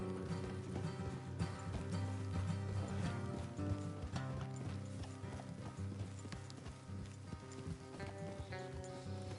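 Horses trot steadily in Red Dead Redemption 2, with brisk, even hoofbeats over a dense layer of game music and ambience, and a brief neigh near the end.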